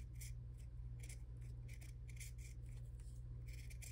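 Scissors snip through fabric washi tape in a few short bursts of crisp cutting, close and fairly quiet over a steady low hum.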